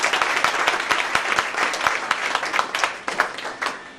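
Loud applause from a conference audience in a hall, dense clapping close by that carries on steadily for several seconds and thins out slightly toward the end.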